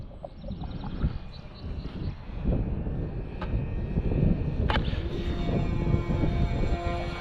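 A V-22 Osprey tiltrotor aircraft flies past on its first flight, its steady engine and rotor roar filling the air and swelling slightly louder toward the end, with a sharp click or two cutting through.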